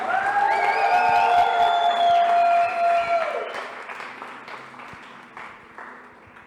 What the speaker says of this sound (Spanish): Le damos un fuerte aplauso de gratitud.